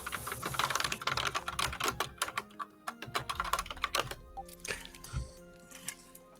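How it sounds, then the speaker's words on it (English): Loud computer keyboard typing clatters in rapid, irregular bursts of sharp clicks and key thumps, close and prominent, with brief pauses between flurries. "That is the loudest keyboard in existence."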